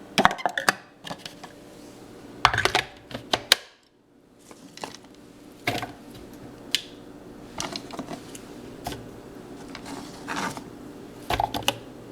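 A small food processor chopping vegetables for raw gardenburgers runs in short, sharp pulsing bursts separated by brief quiet pauses, close and moderately loud.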